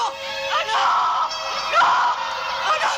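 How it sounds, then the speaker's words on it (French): A woman in a French horror film lets out drawn-out, wavering screams in two long surges, loud and close, with a strained, tremulous tone. "Arrête de crier, voyons."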